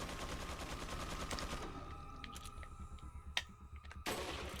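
Gunshots in the video game Resident Evil 4, a couple of sharp individual shots popping out over a busy, rhythmic game soundtrack, fairly quiet overall.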